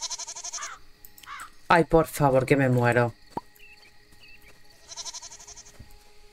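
Sheep in the farming game Moonlight Peaks bleat in short, nasal bursts, one at the start and another near the end, while someone speaks loudly between them.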